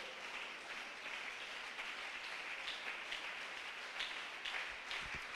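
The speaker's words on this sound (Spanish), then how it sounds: "Dele un aplauso al Señor si me está escuchando" A church congregation claps during a sermon, producing a faint, distant wash of sustained applause with no clear individual claps.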